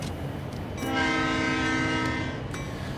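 Santa Fe locomotive horn in Train Sim World on Cajon Pass, a loud multi-chime blast starting after a brief rumble and holding steady for about two seconds over ongoing rail noise before cutting off.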